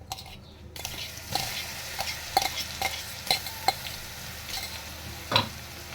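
A coarse chili, garlic and cumin paste fries in oil while a spoon stirs it, giving repeated scraping and tapping strokes against the pan over a low, steady sizzle.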